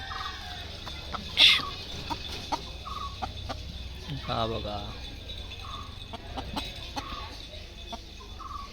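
Chickens cluck and squawk nearby in a coop, including a rooster, in short scattered calls, one sharp louder cry early on, with a brief spoken remark among them.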